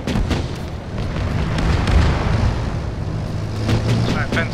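Artillery shells explode in a video game: dense, rumbling booms roll continuously up close, with several sharper bursts standing out over the low roar and faint voices mixed underneath.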